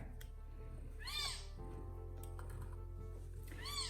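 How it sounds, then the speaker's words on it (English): Newborn kitten crying after a feeding, two distinct high, rising-and-falling mews about two and a half seconds apart over a steady low background hum, with no talking. "Kittens will cry a lot."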